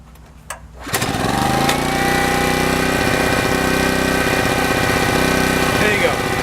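A small gasoline engine sputters briefly, then catches and settles into a steady, loud idle that runs on unbroken to the end.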